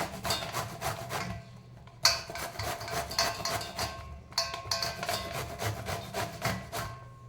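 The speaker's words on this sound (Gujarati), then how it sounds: "હવે મેં આવી છીની લીધી છે એનાથી આપણે આને છીની લેવાનું" Bottle gourd is grated by hand on a metal grater in a home kitchen, giving a close, rhythmic rasping of quick repeated strokes with one brief pause partway, and no talking.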